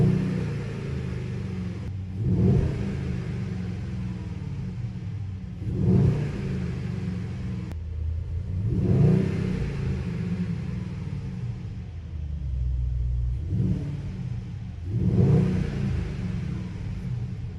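A Mercedes-Benz GLE63 S Coupe with a V8 engine idles with a deep rumble and is revved several times, each rev rising and falling in a steady rhythm, heard close and alone.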